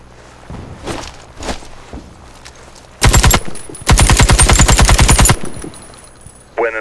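Heavy rifle gunfire in the video game Warface: a few soft footsteps, then a short loud burst of automatic fire, a pause, and a longer rapid sustained burst, close and sharp, ending with a brief click.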